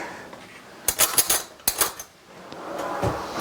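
A spoon is picked out from among dishes in a kitchen, giving two short bursts of close metallic clinks and clatter separated by a pause, then quieter handling.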